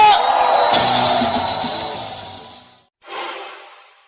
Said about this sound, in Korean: 지금 문재인 후보께서 저 뒤에서 입장하고 계십니다. 큰 박수로 환영해 주십시오.